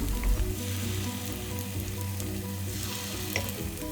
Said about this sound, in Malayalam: ലോ ഫ്ലെയിമിലേക്ക് മാറ്റിയ ശേഷമാണ് ഇതിലേക്ക് ഞാൻ മാവ് ഒഴിക്കുന്നത്